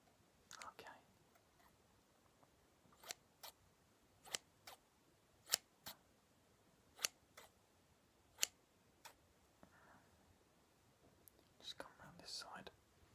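Scissors snipping, a string of short, sharp, isolated cuts spaced a second or so apart, close and quiet in a hushed setting, with faint whispering near the start and end.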